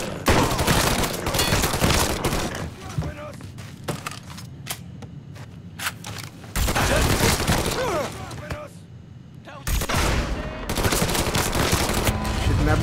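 Gunfire in the video game Mafia 3 rattles out in loud, dense bursts, each separated by short quieter gaps, with no talking.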